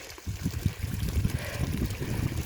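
Water gushes and gurgles steadily out of an external pipe draining a cottage cellar after a freeze, a close, continuous splashing flow.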